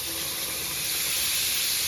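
A continuous hiss of steam as water is poured into a hot pan while cooking cube steak, even and unbroken throughout, fairly close with no talking.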